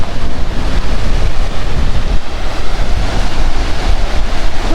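Strong seaside wind roars steadily and loudly across the microphone, with a dense rumbling wash like surf mixed in, continuous for the whole stretch and no voices heard.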